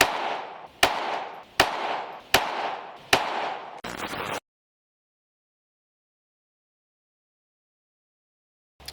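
Five sharp shots from a Taurus TX22 .22LR pistol fired off a rest at 7 yards, evenly spaced about a second apart, each with a brief ringing tail, then a short rattle and silence.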